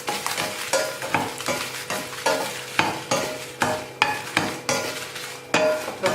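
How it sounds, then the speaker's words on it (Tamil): Dry red chillies roast in hot oil for flax seed idli podi, sizzling loudly while a spoon scrapes and stirs the pan in a brisk, repeated rhythm. "அதே எண்ணெயில இந்த மிளகாயை வந்து ரொம்ப வறுத்தோம்னா பொடி கருப்பாயிடும்"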